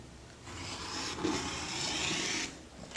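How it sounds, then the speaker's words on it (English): A rotary cutter rolls along the edge of pillowcase fabric in a continuous soft rasp lasting about two seconds, close and quiet, with a faint bump partway through. "I'm going to take my rotary cutter, following the rules that we learned on the other pillowcase, and I'm going to trim off just a little bit"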